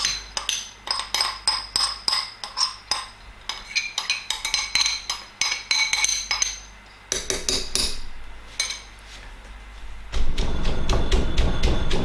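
A pestle pounds shallots and garlic in a mortar for Thai red curry paste, giving a rapid, close, rhythmic run of sharp thuds for several seconds before the strikes give way to a duller, denser grinding texture.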